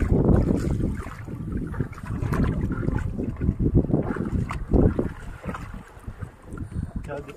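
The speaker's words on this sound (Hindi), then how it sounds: "चलो फाइनली बोट आ गई" A boat comes in across open water, its rumble and splashing churn mixed with heavy wind buffeting the microphone, while people talk over it close by.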